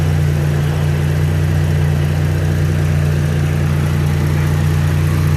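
A Pontiac G8 idles with the hood open, a steady, loud, low engine hum with a constant drone and no change in pitch throughout.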